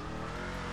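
A car accelerating in the video game GTA V roars with a loud, continuous engine drone and revving throughout the short stretch, with no voices heard.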